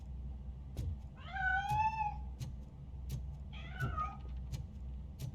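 A cat in RoboCop: Rogue City gives two drawn-out, wavering meows a couple of seconds apart, loud over a low steady hum with faint ticking clicks.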